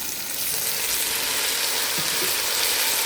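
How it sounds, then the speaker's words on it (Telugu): Soaked rice and a tempering fry and are stirred in a hot pan, giving a continuous close sizzle with faint scraping under it and no talk. "చూసారా పోపు చక్కగా వేగింది వేగినాక మనం నానబెట్టుకున్న రైస్ యాడ్ చేసుకోవాలి"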